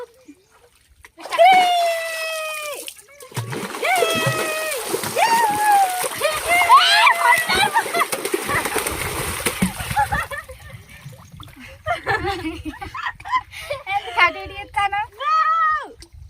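Water splashes repeatedly amid excited children's shrieks and chatter, lively and close, with bursts of squealing throughout.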